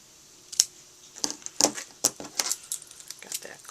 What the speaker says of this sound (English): I'm just going to cut myself a piece of the terracotta tile ribbon